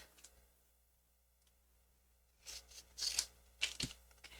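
Paper is trimmed for a craft project: after a near-silent stretch, a few short, crisp snipping and rasping cuts come close in quick succession.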